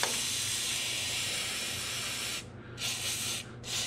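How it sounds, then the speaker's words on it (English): A can of WD-40 lubricant gives a steady, close hiss of spray for a couple of seconds, then two shorter bursts after brief pauses. "A little tiny drink of WD-40, I guess."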